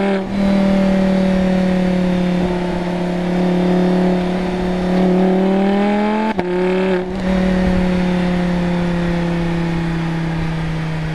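A Lamborghini Huracan Spyder holds a steady rev close by, its exhaust droning loud and even, with a brief dip and crackle midway before the drone resumes.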